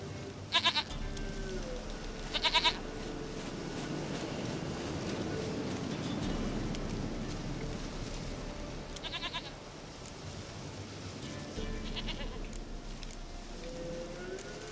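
In the game The Witcher 3, a goat gives several short, sharp bleats spaced across the scene over a steady background hiss like rain, the calls fairly faint and distant.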